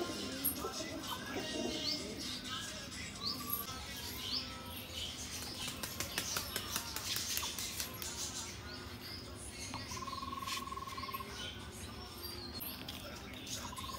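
Giribaj pigeons coo softly at a market stall, low murmuring calls mixed with scattered pattering and scuffling, faint and close, with some background chatter and a brief electronic tone.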